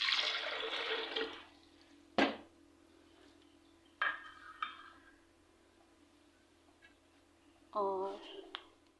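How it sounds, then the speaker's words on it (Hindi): Water splashes as it is poured into a glass for watermelon sharbat in a village mud house, a brief liquid rush at the start followed by a few soft clinks and knocks, with a short voiced sound near the end. "1 गिलास पानी डालेंगे"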